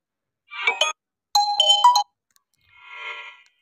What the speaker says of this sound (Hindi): ये फ़ोन की रिंगटोन है